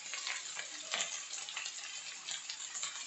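Green beans frying in a pan, a close, continuous crackling sizzle with occasional sharper pops and stirring scrapes, no voices over it.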